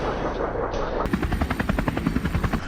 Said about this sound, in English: helicopter cuts through the air, sending a warning to the boar that its time is up